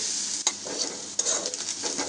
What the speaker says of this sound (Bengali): এর জন্য আমি আস্তে আস্তে নাড়ছি এবং এটা বাদামি রং হওয়ার জন্য অপেক্ষা করছি।